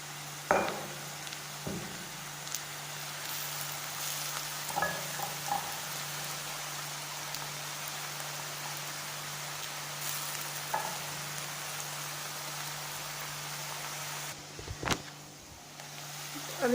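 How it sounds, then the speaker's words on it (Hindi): Garlic added to frying onions in a pan, a soft continuous sizzle with a few scattered stirring clicks and scrapes, close but fairly quiet and heard without talk. "अब मैं इसमें लहसुन डाल दूंगी।"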